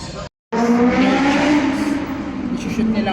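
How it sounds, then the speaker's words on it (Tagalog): A motorbike engine roars loudly and continuously near a street in Cubao, after a brief cut, with a steady droning tone and voices mixed in. "ang ingay nung motor."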